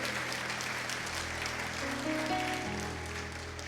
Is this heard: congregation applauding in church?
yes